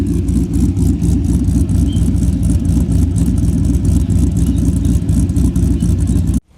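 A newly built car's engine runs steadily at first start-up with a loud, close, rough rumble and a pulsing exhaust that cuts off abruptly near the end.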